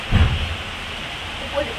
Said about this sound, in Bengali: প্রচুরই আওয়াজ হচ্ছে, টুকুর টুকুর বৃষ্টি পড়ছে